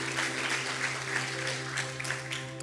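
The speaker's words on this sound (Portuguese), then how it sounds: "Aplauda o Espírito Santo" A church congregation at a Portuguese-language celebration service claps together in honour of the Holy Spirit. The applause is brief and moderately faint, with a steady hum running under it.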